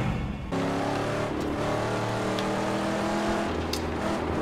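A car engine in the Mad Max video game revs hard and climbs in pitch, then holds a loud, sustained roar close by.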